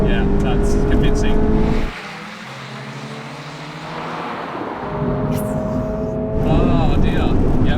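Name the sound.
Subaru BRZ and Mazda MX-5 accelerating in drag race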